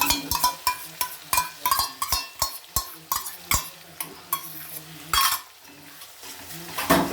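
Spiced masala with sour yogurt scraped and stirred in a pan over low flame for a coriander rohu fish curry, a steady run of sharp metallic clinks from spoon against pan, loud and close, with no talking.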